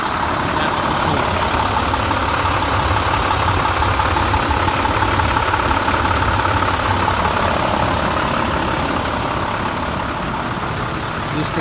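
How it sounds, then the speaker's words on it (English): An International CXT 7300 truck with a GT466 non-emissions inline six-cylinder engine idles nearby, a loud continuous rumbling drone that stays even throughout. "GT466 engine, which is basically a non-emissions inline six-cylinder, pretty daggone beast motor"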